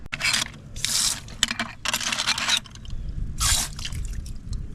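Sea urchin shells and sand dollars soaking in bleach water, with water dripping and splashing in several bursts amid scraping and squishy handling sounds, fairly close.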